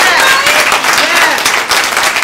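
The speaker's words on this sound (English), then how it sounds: "Let's clap ourselves up." An audience claps together, a dense, steady wash of applause that stays loud and close throughout, with voices calling out over it.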